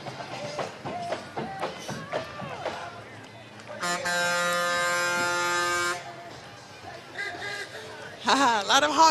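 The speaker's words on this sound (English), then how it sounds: "A lot of honking coming on." Vehicle horns honking at the Lombard Lilac Parade, with a long loud sustained air horn blast lasting about two seconds amid crowd noise and talking, then another blaring honk near the end.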